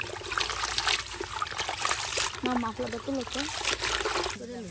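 Neem leaves being washed in water, with steady trickling and splashing close by while voices talk over the sloshing throughout.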